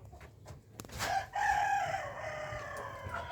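Chicken clucking in a coop, a few sharp calls rising into a drawn-out vocalisation, close and fairly loud with background rustle.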